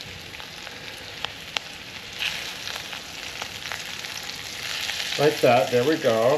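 Homemade pierogies fry in a pan with a steady soft sizzle and a few clicks as they are flipped, while someone talks briefly near the end.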